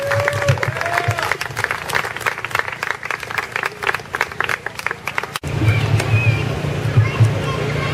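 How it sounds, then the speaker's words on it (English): Festival crowd at the Harlem Arts Festival applauding, dense sustained clapping with cheers, a voice speaking over it early on, then an abrupt cut to quieter outdoor ambience with distant talk. "A round of applause."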